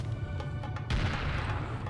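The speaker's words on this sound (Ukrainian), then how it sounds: "Постріл страшних масштабів." A heavy, booming cannon-like blast from the video game Serious Sam erupts midway through, its rumble lingering over a dense backdrop of game noise and earlier muffled impacts.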